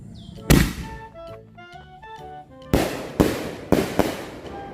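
Four sharp firecracker bangs from a white firework, the first followed by crackling and whistling sparks, then three loud reports in quick succession outdoors.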